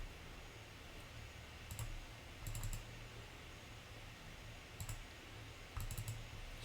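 Quick mouse double-clicks and short bursts of computer keyboard typing while writing Python code, faint and close against a soft steady hiss, coming in a few separate clusters with pauses between.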